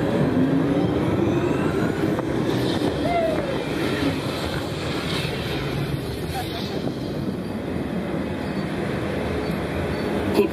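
Epcot's Test Track ride runs its off-road and extreme weather sequence, a loud, steady roar of rushing vehicle and wind noise with rumbling texture throughout, continuous and close with no break.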